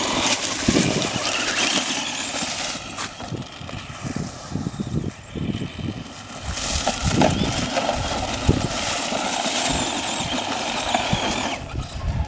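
A two-wheel-drive ECX AMP DB RC car drives on dirt, its electric motor whining up and down in bursts over loose crunching ground, moderately close with no talking.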